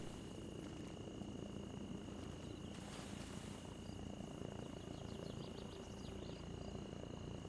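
A helicopter in Arma Reforger drones steadily at a distance, a constant low rotor and engine rumble with a faint high whine that holds unchanged throughout, no voices over it.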